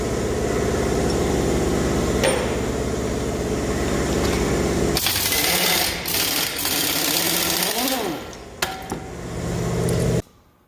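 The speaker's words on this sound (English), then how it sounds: "now we're just pumping oil from our tanks up there through our hose" A pump moves oil from tanks up through a hose with a loud, steady droning hum. Partway through, the tone gives way to a rougher, broader whoosh that runs on until it cuts off near the end, with a few clanks.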